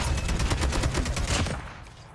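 An AK-47 firing in COD Mobile, a rapid burst of about a dozen sharp, close shots in quick rhythm, then a short fading tail.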